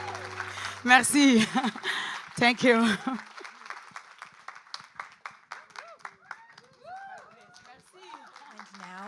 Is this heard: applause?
yes